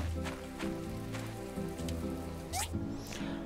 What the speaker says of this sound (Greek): Πόπο βροχή.